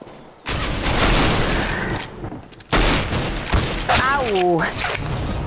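Rapid gunfire on the Assault map in CS:GO, loud bursts of automatic shots in two long volleys separated by a brief pause, followed by a voice talking and exclaiming.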